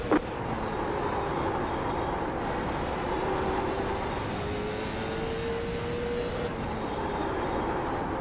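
Race cars circle an oval track at Slinger, a continuous engine drone heard from a distance with one car's pitch rising and falling as it passes, layered over a steady background roar.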